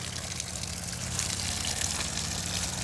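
Water trickles steadily out of the drain plug at the back of a plastic boat, a continuous close hiss and dribble with a low engine-like hum underneath.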